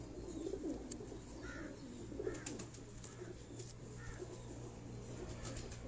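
A pigeon coos softly a few times on a rooftop among kept pigeons, low murmuring calls repeating at intervals over a steady background hum.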